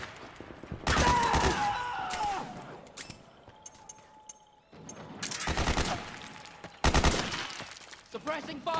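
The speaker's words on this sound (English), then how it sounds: "Suppressing fire!" Bursts of rapid automatic gunfire in the video game Metal Gear Solid 4 rattle in long volleys with brief pauses, mixed with scattered single shots and in-game clatter.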